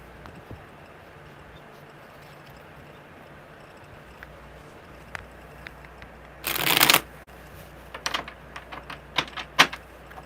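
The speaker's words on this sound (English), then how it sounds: "Okay, one more good shuffle." Tarot cards are shuffled in one loud, dense riffle lasting under a second, followed by scattered lighter taps and card flicks in an otherwise quiet room.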